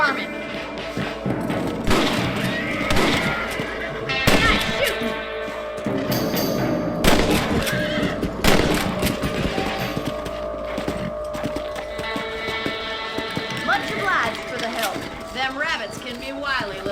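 Rifle shots ring out in the Red Dead Redemption video game on PC as several sharp reports spread across a busy scene, mixed with thuds and hoofbeats, while a voice talks over the action.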